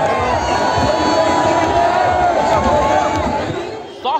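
Large crowd at Arvind Kejriwal's road show in Bhalswa Dairy ward cheering and shouting in a dense, continuous roar of voices, loud and close throughout.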